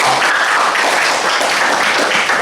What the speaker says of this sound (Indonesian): Berikan aplaus dulu untuk temannya.